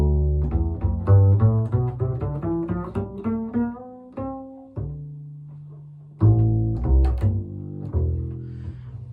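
Plucked double bass notes, a quick run of deep resonant tones that slows to a few long sustained notes, then resumes, played alone with no talking.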